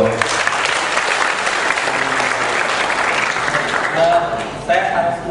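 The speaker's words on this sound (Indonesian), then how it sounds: "Tepuk tangan untuk" Loud, dense crowd applause from an audience at an Indonesian anti-corruption event, steady throughout and tapering slightly near the end, with voices mixed in under the clapping.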